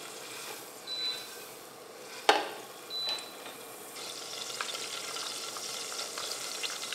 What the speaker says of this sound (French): Donc on va laisser fondre le beurre